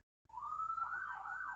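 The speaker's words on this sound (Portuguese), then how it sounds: "vira e mexe, passa uma ambulância aqui, ó" An ambulance siren passes near a home by a hospital. It is one steady, wavering wail that comes in suddenly after a brief silence, holds loud and clear, and no one talks over it.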